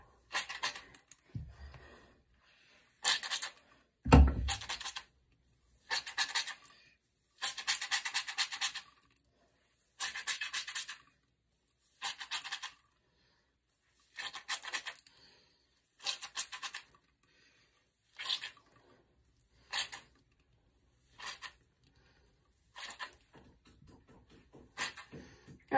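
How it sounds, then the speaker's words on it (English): Hands scrunching wet, wavy-curly hair during a wash-and-go, a soft squelching burst repeated in a steady pulsing rhythm about once a second, close and fairly quiet, with no voices. "if you want to encourage the curl, you want to be scrunching the whole time"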